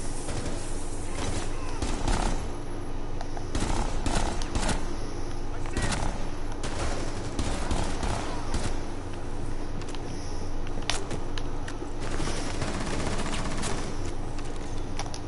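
Dense, continuous video-game gunfire rattles throughout, with rapid overlapping automatic bursts and single shots, while voices call out over the shooting.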